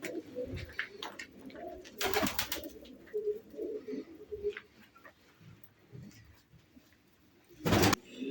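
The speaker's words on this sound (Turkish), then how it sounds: "2, 4, 6, 8, 10, 11 tane uçuma hazır yavru uçurucular" Young flying pigeons cooing softly on and off, with wing flutters and a couple of loud bursts of flapping, heard up close against a quiet background with faint traffic.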